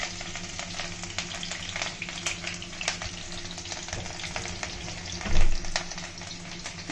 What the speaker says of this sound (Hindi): तेल गरम हो गया है, पहले हम हरी मिर्च डालेंगे।